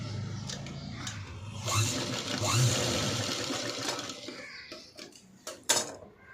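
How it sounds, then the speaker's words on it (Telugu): A sewing machine stitches around a dress neckline in quick rattling bursts, with pauses and small clicks of fabric handling between runs. "ఇలా వేసుకొని మనం నెక్ని స్టిచ్ చేసుకోవాలి."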